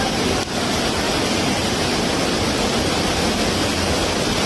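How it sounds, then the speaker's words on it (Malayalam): Loud, steady broadband rush of floodwater pouring down in the rain, like a torrent surging off hillsides in the monsoon, constant and close throughout with no let-up. "അപ്പോൾ മഴയും വെള്ളത്തിന്റെ ശബ്ദമൊക്കെ ആയതുകൊണ്ട് നമ്മൾ വോയിസ് ഒന്നും അത് അധികം ക്ലിയർ ആയിട്ടുണ്ടാവില്ല"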